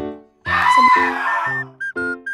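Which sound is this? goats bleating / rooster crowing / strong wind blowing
goats bleating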